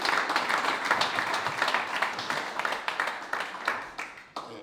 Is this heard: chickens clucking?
no